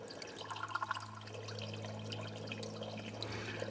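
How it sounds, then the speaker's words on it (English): Clear spring water trickles out of the earth into a pipe in a gravity-feed water setup, a quiet, continuous gurgle with small drips and a low steady hum underneath. "look at the clear water coming out from the earth"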